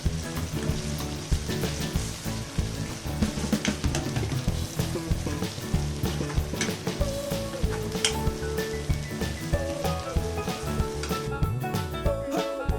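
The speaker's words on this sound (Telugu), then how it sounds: "ఒకసారి నూనెలో పచ్చివాసన పోయేంత వరకు ఫ్రై చేసుకుందాం." Turmeric and spices frying in hot oil for a cluster beans masala curry, a steady, dense sizzle that holds at an even loudness for the whole stretch without a break.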